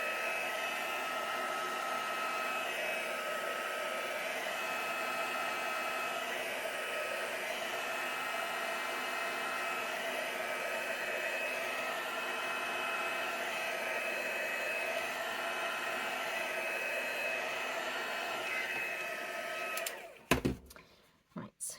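A hair dryer runs with a steady, close whine and whirr while drying acrylic paint, continuing unchanged for a long stretch before it cuts off into a few knocks and clatters near the end.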